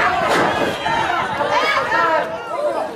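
A lively crowd at an afternoon lucha libre tag team main event, shouting and cheering in a dense, echoing roar of overlapping voices that swells and dips throughout.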